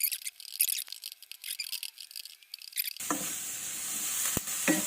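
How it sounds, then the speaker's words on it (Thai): Ingredients for spaghetti carbonara crackle in a hot pan, intermittent stirring sizzles at first, then a steadier, louder frying hiss takes over, close and without talk. "แล้วก็ผัดไปครับผัดไปนิด"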